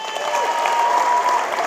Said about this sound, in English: Let's have a big round of applause for Ava Spurk.